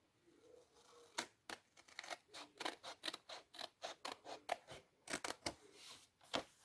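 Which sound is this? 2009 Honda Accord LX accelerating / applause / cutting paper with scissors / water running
cutting paper with scissors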